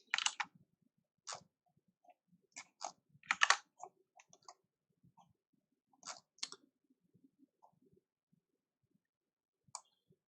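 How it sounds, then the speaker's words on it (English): Keystrokes clatter on a computer keyboard, in short bursts of clicks separated by pauses, close up and fairly quiet, with no one talking. "Otherwise I'll just type it up."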